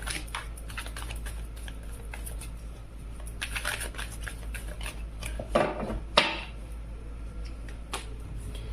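Tarot cards being handled and drawn during a Hindi love reading, a steady papery rustle with a few sharper card snaps near the end, close and fairly quiet, with no talk.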